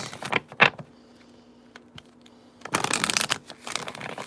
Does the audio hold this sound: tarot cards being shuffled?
yes